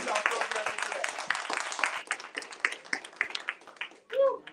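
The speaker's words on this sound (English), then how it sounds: "Give yourselves a round of applause." Audience applause at a live authors showcase event, a dense patter of clapping that thins out over a few seconds, with cheering and chatter mixed in and a voice near the end.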